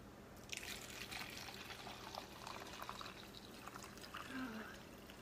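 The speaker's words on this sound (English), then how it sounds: "I add my coffee." Coffee poured from a pot into a cup for a cinnamon latte, a steady splashing trickle that runs for several seconds and swells near the end, fairly quiet.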